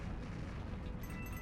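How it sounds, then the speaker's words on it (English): Muffled booming cannon fire in the Super Mario Galaxy auto-scrolling level, a deep rumbling blast filling the short clip, with a brighter hiss entering near the end. "And also start up all these cannons."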